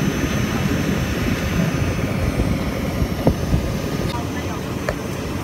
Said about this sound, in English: These are pretty small airplanes.